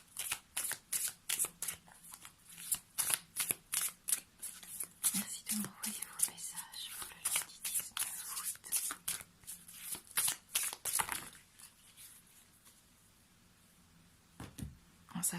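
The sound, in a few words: shuffling oracle cards for a tarot-style reading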